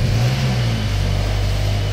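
A cold Ferrari Daytona SP3 engine starting up and settling into a steady, loud, close rumble with a low drone that holds for the whole clip, with no talk.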